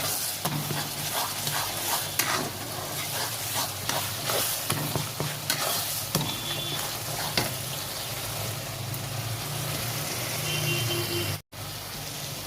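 Steady close sizzling of a chilli, cumin and coriander powder spice paste frying in a pan, with frequent scraping stirs of a spatula over a continuous hiss and a brief dropout near the end.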